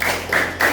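A primary school class of fifth graders does a rhythmic clap-and-chant routine in the classroom: three quick, evenly spaced bursts of clapping blended with chanting voices, fairly loud and close.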